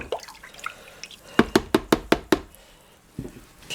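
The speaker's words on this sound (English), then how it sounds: "So give it a good stir around." Soaked postage stamp paper pulp being stirred around in a tub of water, heard as a quick run of six crisp, evenly spaced splashy knocks close by, followed by quieter sloshing.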